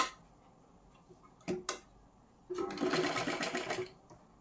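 A sewing machine stitches a blouse: two brief needle bursts, a short pause, then a sustained run of rapid stitching lasting over a second, close and clear against a quiet room.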